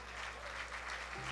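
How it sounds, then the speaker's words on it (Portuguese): Congregation applauding for the Lord during a church worship service: a short, faint, steady wash of clapping with a low hum underneath. "Você pode dar uma salva de palmas ao Senhor"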